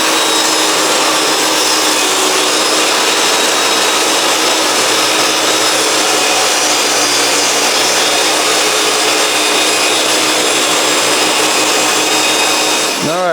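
A power saw cuts wooden boards for a boot and shoe closet organizer, a loud, steady, close whine that runs unbroken with no talking.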